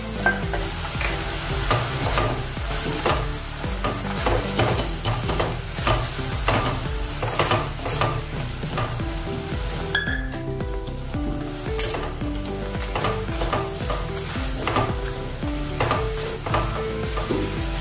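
Whole red chilies and asafoetida sizzle in hot oil in a pan while being stirred, a continuous loud crackling fry punctuated by rhythmic scraping strokes, close up with no talking.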